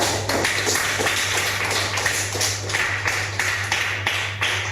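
A classroom of students claps together for a classmate, a dense, steady patter of many hands that keeps going without pause under a constant low hum.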